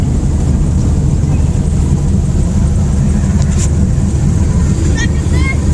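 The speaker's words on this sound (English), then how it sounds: "it's got a heck of a growling sound back there" A 1956 Chevrolet Nomad with a faulty rear end growls steadily while driving, a loud continuous low rumble mixed with road and wind noise throughout.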